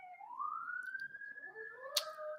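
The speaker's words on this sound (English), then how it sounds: "there's a siren going past." A siren passes by outside, one rising and gently sliding wail heard faintly and from a distance, with a sharp click near the end.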